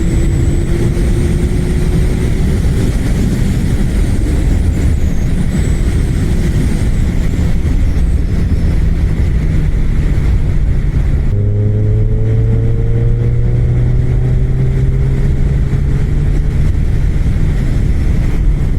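A Suzuki Hayabusa superbike accelerates along a highway stretch, its engine a steady loud drone with rising pitch sweeps through the gears, joined partway by a deeper rising tone and constant wind rush, with no talking.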